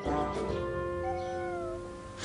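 A cat gives one drawn-out, wavering meow, close and fairly loud, with no talk over it.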